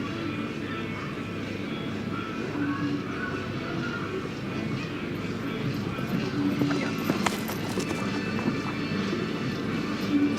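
Horse hooves clip-clopping in a steady, rhythmic pattern across an arena surface during a dressage test at an event rider masters competition, heard amid continuous crowd and ambient background noise, with voices present.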